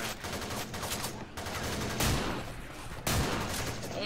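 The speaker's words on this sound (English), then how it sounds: "And I shot and I missed." Rapid bursts of gunfire from Left 4 Dead 2 fill the scene, with dense overlapping shots and two sharper, louder blasts standing out amid a steady barrage.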